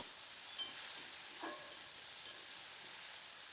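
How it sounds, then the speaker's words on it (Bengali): Potatoes and onions stir-fried with poppy seed paste in a pan, giving a steady, even sizzle and hiss with a faint scrape or two, no voices. "এবার পোস্তটা দিয়ে মিনিট দু তিনেক মতো আলু আর পেঁয়াজগুলির সঙ্গে একটু নাড়াচাড়া করে ভেজে নেব"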